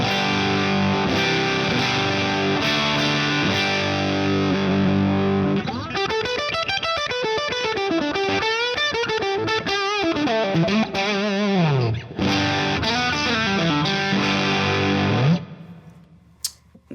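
Electric guitar, a Squier Classic Vibe with a Fender Vintage Noiseless bridge pickup, played loud through a distorted effects chain: steady strummed chords, then fast melodic lead runs and bends, ending on a ringing note that cuts off.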